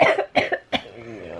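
A person coughs three times in quick succession, close and fairly loud, followed by a short raspy throat sound as the coughing settles.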